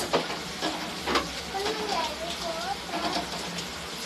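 Food frying in hot oil on a gas stove right after being flipped, a steady close sizzle with occasional stirring scrapes, while a voice talks over it.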